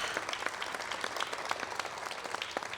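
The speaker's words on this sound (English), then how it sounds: "I want you all to give a round of applause to yourselves" Crowd applause at a swearing-in ceremony, a dense even wash of many hands clapping at moderate distance, steady and unbroken throughout with no talk over it.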